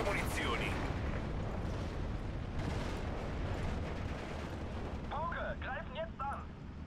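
Grenade blasts and battle noise in a World War II video game fight between German marines and Free French forces, heard as a sustained, dense rumble of explosions with a burst near the start and sharper crackles late, under faint talk.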